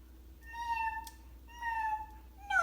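A cat meows twice in long, clear, falling cries with a short pause between them, and a third meow starts just as the clip ends. No one talks over it.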